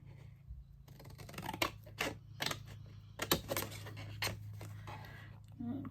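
Scissors snip out cardstock pieces for a small gift card box in a quiet room, with a series of separate crisp cuts close by and soft handling noises between them.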